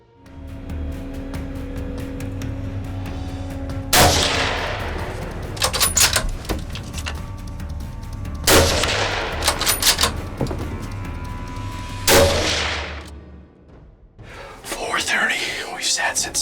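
A rifle shot fired at a buck during a Missouri deer hunt cracks out loudly near the start, followed by quieter sharp bursts and rustling while people whisper and talk.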